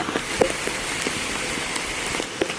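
Steady heavy monsoon rain near Dudhsagar waterfall in Goa hisses on a surface, with a few louder drops landing nearby.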